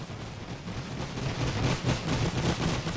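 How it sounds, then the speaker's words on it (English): Machine guns fire on an infantry unit in The Great War strategy game, a dense, continuous rumble of rapid rounds and distant booms, loud and unbroken throughout. "Fire is as the machine gun is firing on this unit"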